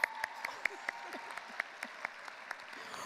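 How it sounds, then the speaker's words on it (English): Light, scattered clapping from a small group at a community convocation, individual claps distinct and irregular, fairly close and not very loud. "Just give us a round of applause."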